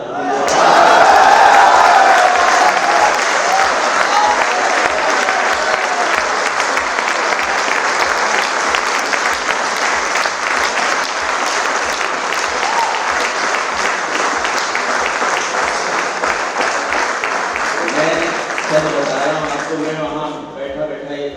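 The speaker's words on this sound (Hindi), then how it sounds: "आप इतनी तालियां बजा रहे हैं, इतनी तालियां बजा रहे हैं" Loud, sustained audience applause fills a Hindi poetry recital (kavi sammelan), a dense roar of many hands clapping that holds steady for about twenty seconds before thinning slightly at the end.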